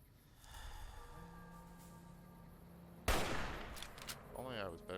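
Gunfire from the video game Fallout: New Vegas: a sudden sharp shot bursts in partway through, followed by a loud ringing tail and further crackling reports over game ambience.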